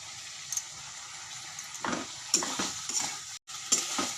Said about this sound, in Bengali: এই যে নুন দিয়ে একটু ভালো করে কষিয়ে নিলাম